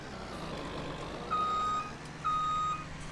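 Reversing beeper on a tractor from a farming game mod, two loud electronic beeps spaced about a second apart over a steady engine hum, no talking.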